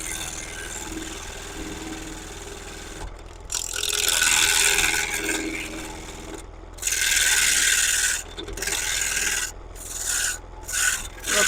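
A bowl gouge scrapes and cuts wood on a spinning lathe in loud rasping bursts, stopping briefly several times before biting in again, with no voices.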